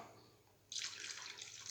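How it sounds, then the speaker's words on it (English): Water poured from a tap into a yeast and sugar mix for calzone dough, starting suddenly as a steady close hiss of running water with no talk over it. "I'll just add another bit of water."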